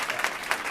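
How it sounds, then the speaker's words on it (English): A brief burst of applause at a school board meeting: scattered clapping from the audience in a room, fairly even, heard alone for under a second. "We had to wait till everybody was done clapping."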